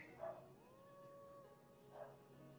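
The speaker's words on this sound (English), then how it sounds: "Oh, the dog, the dog, the dog" A dog in Immortals Fenyx Rising gives two soft barks about two seconds apart, fairly faint and at a moderate distance over quiet game ambience, with a thin tonal sound drifting between them.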